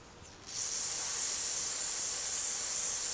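A steady aerosol spray cleaner hiss starts abruptly after a brief quiet moment and continues evenly, close and fairly loud, sprayed onto a sewing machine's rotary hook area.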